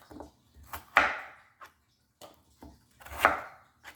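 A knife cuts through potatoes with a few distinct chops on a board, two of them louder and ringing, spaced irregularly between quieter taps, close and with no talk.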